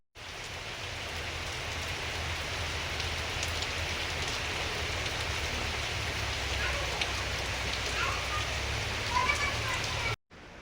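A sudden heavy rain shower pours down steadily at home for about ten seconds, a loud dense hiss of drops on surfaces with faint voices underneath, cutting off abruptly near the end.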